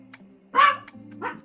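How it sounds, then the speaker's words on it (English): A single sharp dog bark rings out, followed by a softer yip, close by against a faint steady background tone. "we may have Chloe barking in the background."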